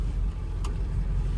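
A 1999 Ford F250 with a 7.3 Powerstroke diesel creeps at full steering lock while parallel parking, its tire rubbing slightly; a steady low engine rumble is heard up close, with one brief faint tick.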